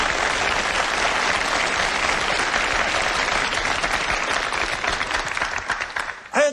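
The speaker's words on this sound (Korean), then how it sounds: "맞으면 박수 좀 쳐" Dense, steady applause from a lecture audience fills the room at moderate volume, continuing evenly before thinning out and ending abruptly.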